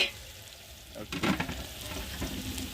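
Fenugreek seeds and onion fry in hot oil with a close, steady sizzle; a short burst of stirring and scraping rises midway, then the frying continues evenly.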